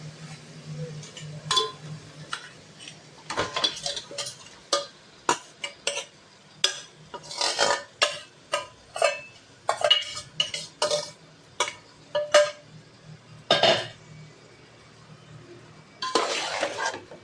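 A spoon mixes chicken into tomato-based biryani masala in a pot, giving close, irregular scrapes and clinks against the metal, some strokes sharper and louder than others, with brief gaps between them.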